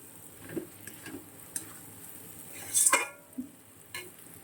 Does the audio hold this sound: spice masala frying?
yes